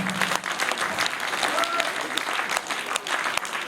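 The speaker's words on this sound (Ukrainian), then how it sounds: "Ваші оплески, дякуємо." Audience applauding after a stage performance at a concert event, steady dense clapping filling the room throughout, with some voices mixed in.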